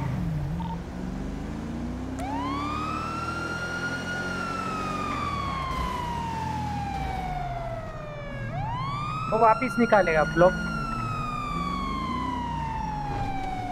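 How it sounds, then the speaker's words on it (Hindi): A police car siren in a GTA roleplay game wails in long rising and falling sweeps, loud and continuous, while someone speaks briefly over it. "बंद कर साइरन"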